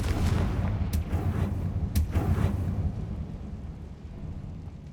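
The Confringo blasting spell in Hogwarts Legacy goes off as two sharp, booming explosions about a second apart, followed by a rumbling decay that fades over the next few seconds.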